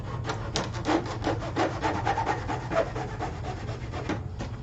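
Sandpaper rubbing against a hot-glued terrain piece, a steady close scraping with repeated short strokes in a quick, even rhythm and no talking.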